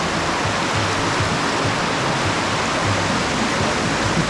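Steady, full rushing of a river flowing, constant and close, with no other sounds standing out, at the Sta. Lucia river in Nagcarlan, Laguna.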